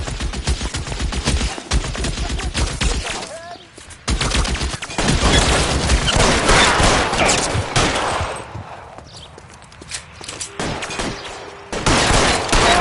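Gunfire in the L.A. Noire video game: loud, dense bursts of rapid machine-gun fire and shots nearly nonstop, with brief lulls between volleys.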